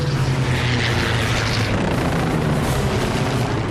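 P-51 Mustang fighter planes fly past as a loud, steady propeller-engine roar with a broad rushing drone, heard alone and without pause.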